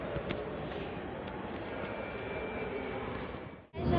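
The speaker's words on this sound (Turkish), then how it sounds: "Şu gördüğünüz gibi kalkış yaptı uçak." A passenger airplane roars loud and steady from inside the cabin as it takes off, a broad engine drone that holds level and then cuts off abruptly near the end, with no talk over it.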